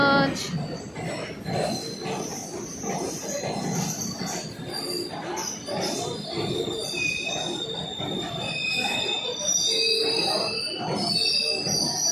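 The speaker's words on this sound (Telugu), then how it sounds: "ట్రైన్ వచ్చేసిందో." A train arriving at a station rumbles in with high metallic wheel squeals and screeches over a steady low roar, close by and continuous.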